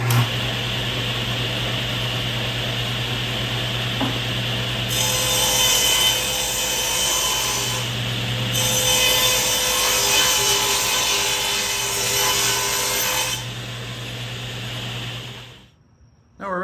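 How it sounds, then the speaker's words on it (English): Table saw cutting wooden boards for an outdoor side table, a steady loud whine that swells into sustained cuts and drops briefly between passes, with a hum underneath and no talk. "With the saw set, let's cut these out."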